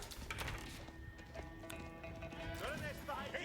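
Keshik cavalry horses arrive in a real-time strategy video game, with faint, rapid clip-clop hoofbeats and a brief whinny mixed among busy battle effects, under spoken commentary.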